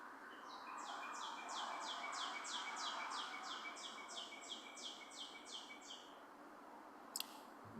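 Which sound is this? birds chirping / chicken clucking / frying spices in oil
birds chirping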